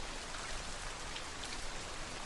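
Raindrops falling in a soft, close ASMR style, a steady dense patter of small drops with no voice, quiet and even throughout.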